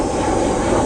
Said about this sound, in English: That was a plane.